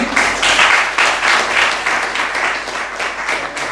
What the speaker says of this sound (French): Je pense qu'on peut applaudir pour les accueillir.